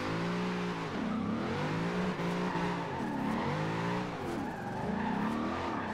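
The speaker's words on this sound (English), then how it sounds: "see if we can get some good drifting going" A VW Type 2 De Luxe van with a V8 swap drifts in Forza Horizon 2, the engine droning and rising and falling in repeated revving swells under continuous tire squeal, loud and close throughout.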